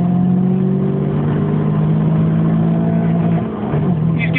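Two Rover hatchbacks, a 216 GTI and a 220 GSI, accelerate side by side in a road race, steady engine drone rising in pitch, heard from inside one car while passengers shout over it.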